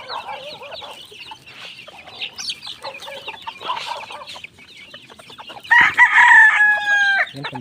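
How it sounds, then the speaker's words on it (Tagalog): Young chicks in a cage chirp and cluck busily while being fed, a close chorus of small calls with a louder, longer call near the end. "Ayan po mga kaibigan ang ating sisiw."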